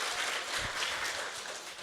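Audience applause at a convention panel on animation, a short burst of dense clapping filling the clip at an even level.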